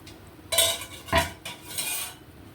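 Fish heads go into a pot of boiling fish curry with clattering metal utensil knocks and a couple of stirring scrapes, three distinct bursts close by with no talking.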